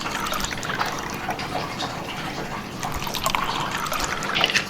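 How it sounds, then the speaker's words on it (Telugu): Rooh Afza syrup being poured into a glass of Sprite makes a close, continuous liquid trickle and fizz, with small bubbly pops through the pour and no talking. "తర్వాత దీంట్లో మనము ఈ రూఅబ్జా వేసుకుందాం."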